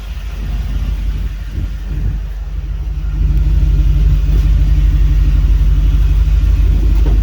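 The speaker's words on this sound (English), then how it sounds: "Getting that exhaust out the back." Toyota Land Cruiser FZJ45 with a 4.7L V8 on an 80-series chassis idles with a deep, steady exhaust rumble close by, the low drone rising slightly in level partway through and holding there without talk.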